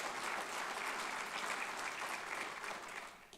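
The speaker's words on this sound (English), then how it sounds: "Let's give her a round of applause right there." Steady, dense applause from an audience at an alumni awards celebration honoring a past award recipient, sustained throughout before tapering slightly at the end.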